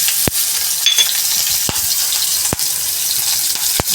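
Ajwain, asafoetida and green chillies fry in hot oil for a cluster bean sabzi, giving a steady close hiss with a few sharp clicks of a spoon against the pan.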